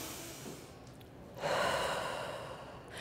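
A single deep breath, quiet at first and then a long, loud, breathy exhale that fades slowly, close up with no talking.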